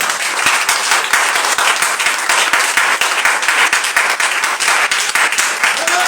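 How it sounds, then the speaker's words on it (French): A church congregation claps continuously and energetically, with dense, even applause filling the whole stretch at close range. "Applaudissons pour le Seigneur."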